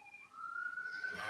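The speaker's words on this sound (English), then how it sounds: "Sirens blaring." A siren sounds briefly as a single sustained tone that climbs slowly in pitch and swells louder toward the end, with no other sounds around it.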